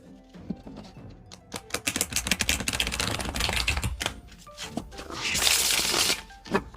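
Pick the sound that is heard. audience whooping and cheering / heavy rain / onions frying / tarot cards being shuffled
tarot cards being shuffled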